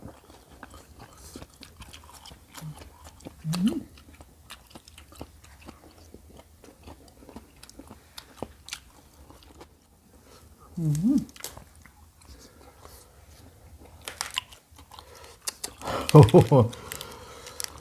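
Crisp fresh salad greens crunched in the mouth, eaten alongside spicy Lao-style papaya salad with squid and fermented fish sauce; three short bursts of close chewing separated by long quiet gaps.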